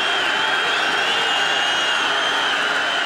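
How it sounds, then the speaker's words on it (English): Football stadium crowd at a 1994 college game in Hawaii roaring continuously, a dense, steady wall of cheering and noise heard from a distance. "Crowd making lots of noise again."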